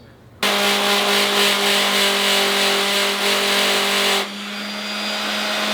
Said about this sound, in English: all this stuff needs to now be leveled out with a sander